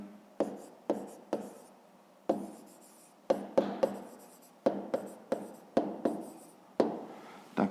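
A pen writing a math answer by hand on paper: quiet, close scratching strokes with sharp taps as the pen touches down, in an irregular rhythm of short bursts.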